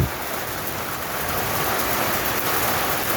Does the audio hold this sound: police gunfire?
no